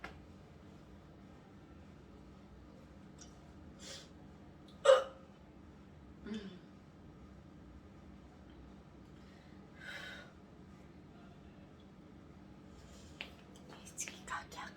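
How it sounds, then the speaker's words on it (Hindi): Repeated hiccups, a handful of sharp isolated catches spaced several seconds apart, close and fairly quiet, with faint breathy sounds between them. "बहुत ज्यादा हिचकी आ रही।"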